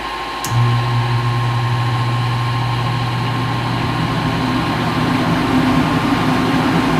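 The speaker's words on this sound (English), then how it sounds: "I'm gonna go ahead and turn my exhaust fan on" An exhaust fan switches on in a homebrew area, a click followed by a steady low droning hum and an airy rush of air pulled through the vent that continues loud and unbroken.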